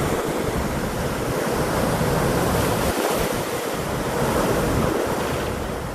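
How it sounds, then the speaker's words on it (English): Strong, steady wind roaring into an outdoor microphone as Category 5 Hurricane Melissa approaches Jamaica, a dense, continuous blast with slow surges in force and no voices. "My audio might be a little low over that wind."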